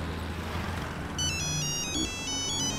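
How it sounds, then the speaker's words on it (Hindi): An electronic phone ringtone starts midway, a repeating high melodic pattern over a quiet background hum. "फोन बज रहा है आपका।"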